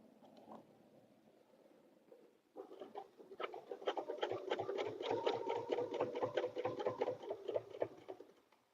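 Sewing machine stitching an outdoor door sign, starting after a quiet lead-in. The needle runs in a fast, even mechanical patter close by for several seconds, then winds down.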